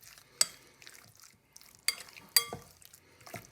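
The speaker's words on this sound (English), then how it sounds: "So all I'm going to do is mix this up." Chicken and prawn being stirred together in a bowl for flatbreads, with a few sharp scrapes and clinks of a utensil against the bowl over soft wet mixing sounds, close and fairly quiet.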